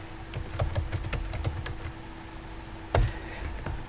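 Keys clacking on a computer keyboard as an SQL query is typed: a quick run of close, crisp keystrokes, a pause, then a louder single strike and a few more taps, with no speech.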